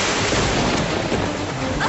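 Heavy rain and storm noise on a stormy night near a river, a dense, continuous wash of sound that stays loud throughout, with no talking.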